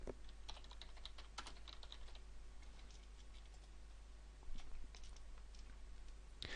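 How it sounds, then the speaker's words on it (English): Fingers type on a computer keyboard in quick, uneven bursts of light clicking taps, close and quiet over a low steady hum, with one louder clack near the end. "I'm going to create a new app by typing Hello World into the form"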